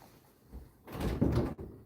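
A door opens indoors with a soft rattle and a short clunk, close and moderately quiet, as a pet cat is let inside.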